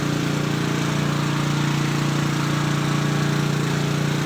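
A small engine drives a simple bore well drilling rig, running steadily with a constant droning hum at close range, no talk over it.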